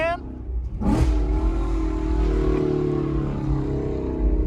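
A Mercedes S550 engine revs in a church parking lot: a rising vroom at the start gives way to a steady, close engine drone that swells again toward the end.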